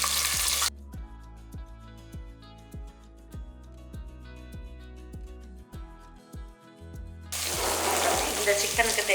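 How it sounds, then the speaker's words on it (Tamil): Curry leaves, with a little coriander leaf, frying in oil for a country chicken curry, a bright crackling sizzle bursting at the start and again at the end, around a quieter, more muffled stretch. "இது நல்லா பொரிஞ்சிருச்சு"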